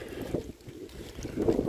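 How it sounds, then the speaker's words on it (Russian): Gusting wind buffets the microphone in low, rumbling surges, steady and fairly loud, with no one speaking, on a cold day. "и очень ветрено."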